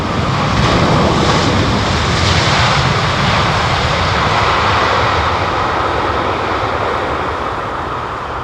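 Jet aircraft engine at London Heathrow Airport producing a steady, loud broadband roar from a burst of thrust that eases slightly toward idle, continuous throughout with no talking.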